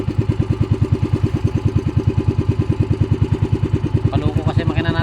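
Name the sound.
boat engine running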